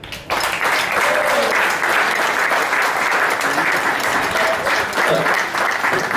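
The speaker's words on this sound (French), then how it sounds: "Encore une fois, on peut applaudir Alice et son équipe." A crowd in Saint-André-les-Alpes welcoming TransVerdon mountain bikers breaks into loud, sustained applause for Alice and her team, dense clapping that starts abruptly and holds steady throughout.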